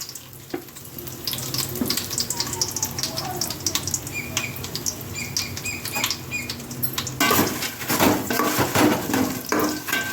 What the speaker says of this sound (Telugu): ఎండుమిరపకాయలు వేస్తున్నానండి వంద గ్రాములు వేస్తున్నాను